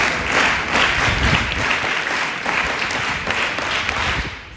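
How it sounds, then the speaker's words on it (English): A school crowd claps loudly and continuously for several seconds during an alumni speech, a dense wash of applause that holds steady before tapering slightly. "Can we give Grand Gurukul claps?"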